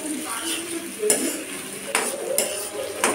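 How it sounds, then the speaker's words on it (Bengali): Chopped spices fry lightly in a pan for ghugni in a home kitchen, a soft sizzle under repeated scrapes and clinks of a spoon against metal, with a voice talking nearby. "তো এখন বানাচ্ছি ঘুগনি, তো সমস্ত মশলাপাতি কেটে এখানে হালকা ফ্রাই করছি"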